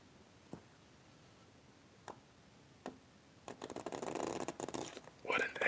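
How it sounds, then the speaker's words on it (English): Playing cards are riffle-shuffled for a game of solitaire, a few soft taps and then a dense, close fluttering burst of cards riffling, ending in a brief bridge-like rattle. "What an excellent shuffle on my part."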